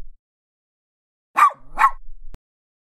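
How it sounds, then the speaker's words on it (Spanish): A dog barks twice in quick succession, sharp and close, followed by a brief soft click in otherwise near silence. "Ladrar una vez significa no, dos veces significa sí"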